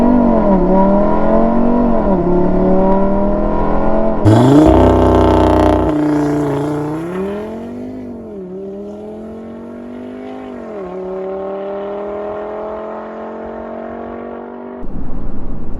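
A 2016 Audi RS3 accelerates hard from standstill to 100, engine note rising loud and close through successive gears with sharp upshift breaks, then easing into a steadier cruising drone.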